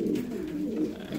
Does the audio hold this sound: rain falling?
no